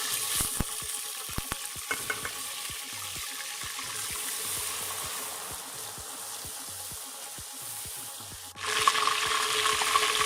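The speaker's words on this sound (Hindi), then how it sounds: "अभी हम इसमें ऐड कर रहे हैं अदरक और लहसुन का पेस्ट।" Ginger garlic paste frying in hot oil in a pot for Lahori chana, a steady soft sizzle with scattered crackles and occasional stirring clicks, quiet and close, swelling louder near the end.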